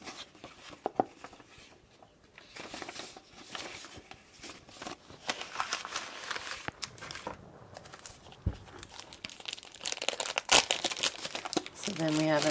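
Sheets of paper from a vintage stamp journal box being flipped and handled, crisp rustling and crinkling in irregular bursts with sharp snaps, close by, with a voice speaking at times.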